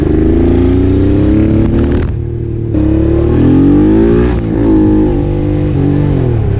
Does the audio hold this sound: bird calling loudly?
no